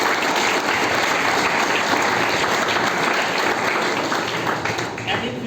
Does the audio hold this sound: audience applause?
yes